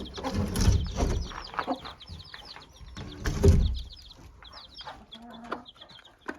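A broody speckled hen clucks in the coop beside her newly hatched chicks, with repeated close clucks and high chick peeps scattered throughout, including two louder bursts.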